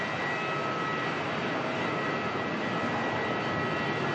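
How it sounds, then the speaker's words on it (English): Jetstar airliner arriving at Melbourne Airport from Hobart, a steady broadband engine rush with a thin held whine, loud and unchanging throughout, no voices. "Jetstar 700 coming in from Hobart"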